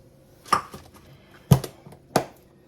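A buttered and floured baking pan is grabbed and handled, giving three separate metallic clanks and knocks spaced about a second apart, close and fairly loud against a quiet kitchen.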